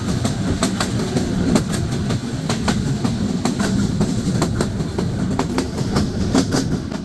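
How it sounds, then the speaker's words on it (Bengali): The Jahanabad Express, running from Khulna to Dhaka on a foggy morning, rolls at speed with a loud, steady rumble and a regular clickety-clack of wheels over rail joints, with no voices. "আর এই কুয়াশা ভেদ করেই আমাদের ট্রেনটি ছুটে চলেছে তার যাত্রাবিরতি স্টেশন সিঙ্গিয়ার উদ্দেশ্যে।"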